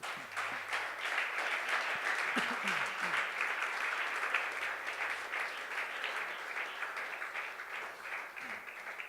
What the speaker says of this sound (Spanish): Damos fuertes palmas al nombre de Jesús